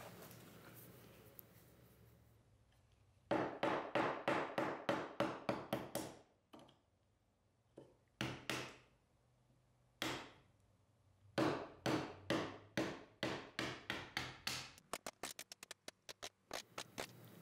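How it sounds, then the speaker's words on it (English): Wood chisels cleaning out a mortise in walnut for a computer desk base, giving quiet, close bursts of rapid sharp taps and chops with short pauses between runs, ending in a quick flurry of lighter ticks. "I'll leave the rest for the chisels"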